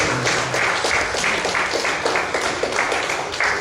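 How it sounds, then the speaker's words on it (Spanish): A congregation at an evening church service claps loudly and continuously, a dense, close wash of many hands with faint rhythmic accents throughout. "Dale un fuerte aplauso a Cristo esta noche."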